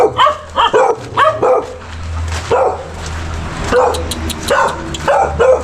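A dog barks loudly and close in rapid repeated bursts, with some yips and whimpering mixed in, outdoors while people call out nearby.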